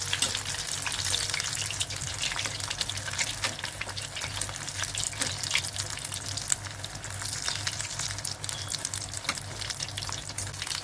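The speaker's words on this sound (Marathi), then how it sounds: "आपलं तेल तापलेलं आहे, त्यामध्ये आपण केलेले रोल सोडूया. आपण मीडियम गॅसवर तळून घेणार आहे ते." Green pea (matar) rolls deep frying in hot oil over a medium flame give a steady, close sizzle with crackling bubbles that carry on throughout, with no talk.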